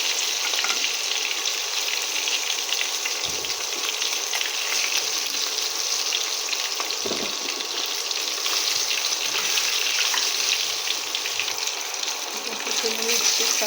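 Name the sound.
fish frying in oil in a wok, then lifted out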